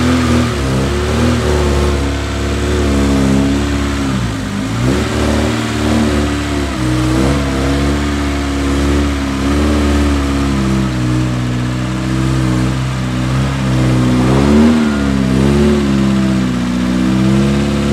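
A Lada VAZ car engine, left to rot and under restoration, runs on carburettor-shop petrol with steady revving swells rising and falling, loud and close, with no voices over it.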